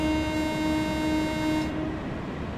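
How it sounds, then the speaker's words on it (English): A train horn blows in one long, steady blast that cuts off near the end, set over a low rumble of a locomotive in a train simulator game on the run to Eastbourne. "Let's actually blow our horn properly for that one."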